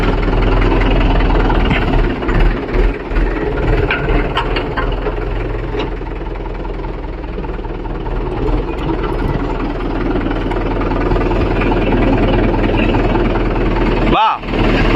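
A Mahindra 415 DI tractor engine pulling a 9-tine spring cultivator in farmland, running loud and steady with a deep rumble, while people talk over it.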